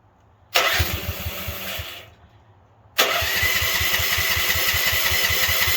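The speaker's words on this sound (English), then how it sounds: "Press your choke down. 2 hands. Turn the key." A manlift's engine is started with the choke applied, cranking briefly, dying away, then catching again and settling into a steady, loud, close running idle.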